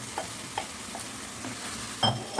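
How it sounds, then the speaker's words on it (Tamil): Lemon pepper mint chicken curry sautéing in a kadai, a steady low sizzle with a few soft scrapes and clinks of a stirring spoon, one louder knock near the end. "இப்போ இது கொஞ்சம் வதங்கட்டும்."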